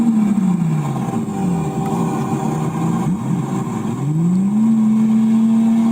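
Lamborghini Murcielago engine revving nearby, its pitch swooping up and down through several blips before settling into a sustained high drone.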